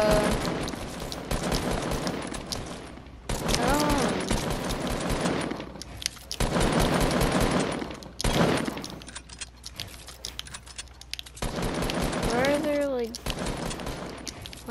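Bursts of rapid gunfire from the Fortnite video game on PS4, firing in long sustained volleys with short gaps between them, while a player talks over the shooting.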